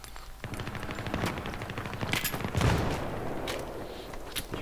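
Rapid machine gun fire from Battlefield 3 during a Seine river crossing, with sustained bursts of close shots rattling over a steady din and one heavier blast partway through.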